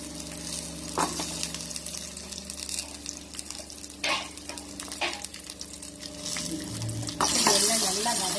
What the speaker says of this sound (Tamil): எல்லாம் நல்லா வதங்கி வரணும்